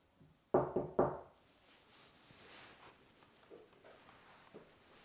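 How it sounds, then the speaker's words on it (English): Three loud, sharp knocks on something inside an old room at Bolling Hall come in quick succession near the start. Quiet room tone and a few faint soft thuds follow. "Knock like this."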